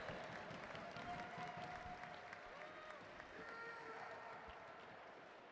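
A crowd applauds at the USA Madison track cycling national championships, honoring the national champions. The clapping is soft and distant, a steady wash that fades slightly toward the end, with a voice faintly over it.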